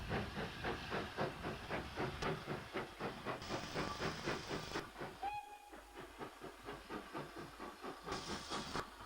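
A 0-4-2 saddle tank steam locomotive hauling a train on a rural light railway, rhythmic chuffing exhaust beats with steam hiss, a short whistle toot midway, fairly faint and distant.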